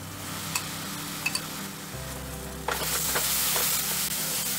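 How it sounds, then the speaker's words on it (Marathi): Red masala being stir fried in a pan over medium heat, a moderate sizzle that swells suddenly louder partway through, with a few light clicks of the spoon, no talking. "मसाला चांगला परतून सुका करून घेऊया आपण"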